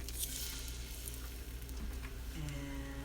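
Tofu hits a hot pan and sizzles steadily, with a crackling frying hiss and a few light stirring scrapes, heard close up and quiet.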